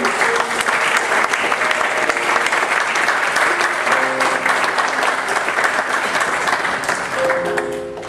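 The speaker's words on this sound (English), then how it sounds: "Why don't you give the Lord a hand clap?" A church camp meeting congregation breaks into loud, sustained applause, thick continuous clapping that fills the room and tapers slightly at the end, with faint voices beneath.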